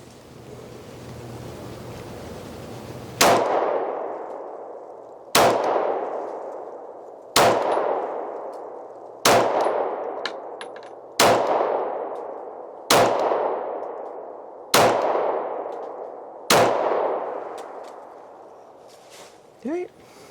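Sig Sauer Legion P220 10mm pistol firing aluminum-case rounds outdoors, seven loud, sharp shots spaced roughly two seconds apart, each trailing off in a long echoing decay over a steady wind-like background.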